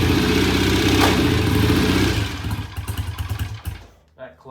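A 1965 BSA motorcycle on a test ride pulls away in first gear with a slipping, dragging clutch, its engine loud and close at first, then fading and sputtering toward the end; voices may be mixed in.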